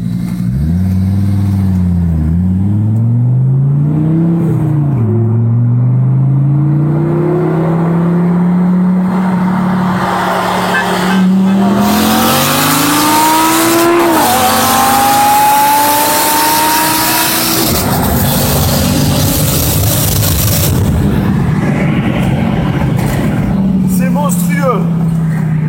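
A five-cylinder turbocharged car engine revs hard, its loud, close note climbing and falling in repeated sweeps before settling into a steady idle-like drone.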